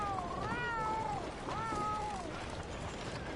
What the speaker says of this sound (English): Hi there, kitty.